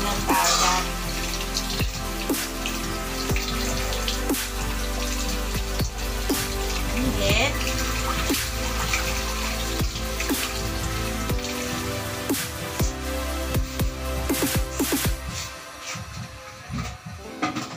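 Lato seaweed rinsed by hand in water, continuous splashing and trickling with small sloshes and drips close by, with occasional voices in the background.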